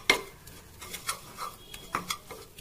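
A spoon scrapes and clinks against a pan while ingredients for white sauce are stirred and fried until lightly coloured, with sharp metallic knocks and a quiet sizzle underneath.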